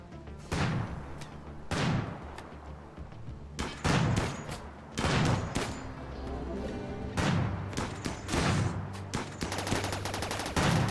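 Gunfire in the colony-building video game RimWorld, a series of sharp loud shots and bursts spaced irregularly across the span, with rapid repeated firing near the end.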